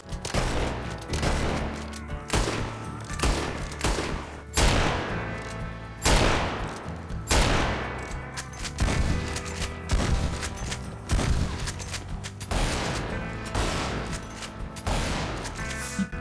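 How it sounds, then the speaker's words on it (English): Rapid volleys of gunfire from Red Dead Redemption 2 with a realistic weapon audio mod, loud sharp shots and bursts repeating throughout with booming tails, no voices. "Weapon audio. It completely changes the sounds of gunfire."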